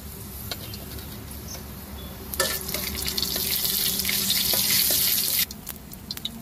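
Cumin and dried chili flakes hit hot oil, rising into a loud steady sizzle that holds for a few seconds before dropping back to a softer crackle.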